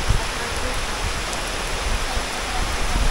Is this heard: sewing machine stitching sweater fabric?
no